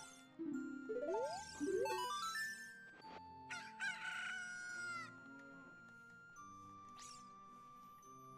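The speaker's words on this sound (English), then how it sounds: "we need to bring Harem, this chicken now," A cucco chicken in The Legend of Zelda: Ocarina of Time gives a loud, stretched rooster crow amid synthesized game clucks, chimes and background music, repeated across several seconds.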